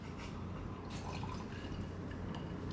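Scotch poured into a glass, a steady liquid trickle with a few drips over a faint room background, close and quiet.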